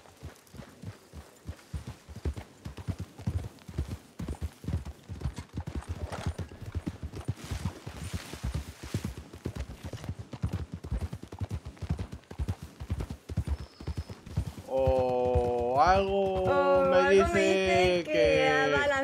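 Horse hooves clip-clop in a steady, evenly spaced rhythm while riding in the Red Dead video game, fairly close and alone at first, then joined near the end by a loud sustained tonal game sound over the hoofbeats.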